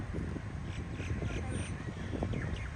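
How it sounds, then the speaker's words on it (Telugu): Crows caw a few times in a park, harsh calls over a low, steady outdoor background. "చూడండి గాయ్స్, పక్షులు వచ్చి ఆడుకుంటున్నాయి"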